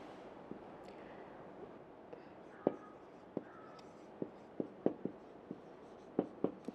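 Chalk or marker scratches out a formula on a board in an economics lesson, making faint, scattered taps and short squeaky strokes at an irregular pace over a quiet room background.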